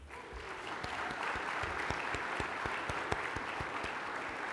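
Sustained audience applause at the 2021 William Oliver Baker Award Dinner, a dense even wash of clapping with a few sharper claps standing out, steady and fairly close for the whole stretch.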